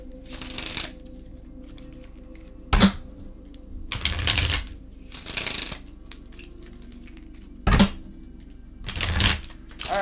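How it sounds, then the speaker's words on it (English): A deck of cards is shuffled close up in several quick riffle bursts, crisp rapid fluttering clicks with short pauses between them, against a quiet room with no talking. "Let me just shuffle the cards really quick."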